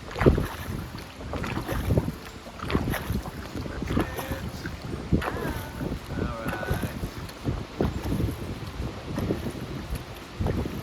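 Wind rushing over an open boat at Pagsanjan Falls, a steady broadband roar with buffeting gusts on the microphone, alongside water noise and scattered voices talking throughout.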